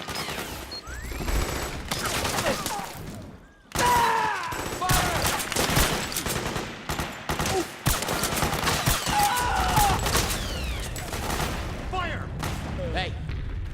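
Rapid gunfire bursts from a Metal Gear Solid 4 battle, loud repeated shots and booming impacts crowding together, with soldiers shouting over the chaos and a brief lull near the start.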